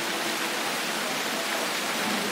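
Heavy tropical rain pours steadily in a Borneo jungle forest, a dense, even hiss with no pauses or breaks.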